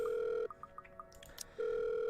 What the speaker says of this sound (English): Okay, I'm gonna answer this phone,